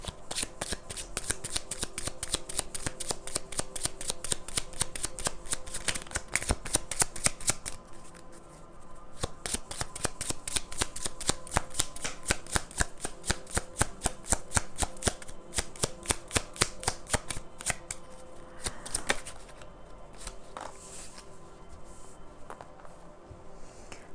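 Tarot cards being shuffled by hand, with a long run of rapid, crisp riffling flicks in bursts and brief pauses, close and steady, and no talking.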